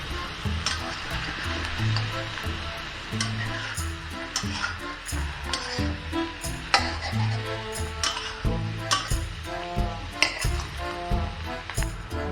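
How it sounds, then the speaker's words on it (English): Onion frying in a pan while being stirred, a moderate sizzle broken by irregular scraping and clinking against the pan, close and without voices. "Let's put in the onion. Mix it nicely."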